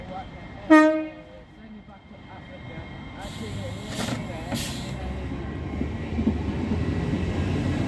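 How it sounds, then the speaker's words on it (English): A Class 802 train approaches Northallerton station, opening with a loud two-tone horn blast, then a rising rumble of wheels and engine growing louder and nearer, with someone talking over it. "And on the approach is a 802 from Liverpool to Newcastle."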